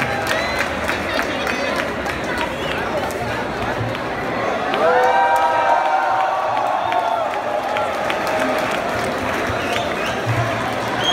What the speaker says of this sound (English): Everyone, put your hands together.